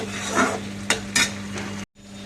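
Eggs, potatoes and soybeans cook together in a pan, giving a steady close sizzle with a couple of sharp stirring scrapes before the sound cuts off abruptly.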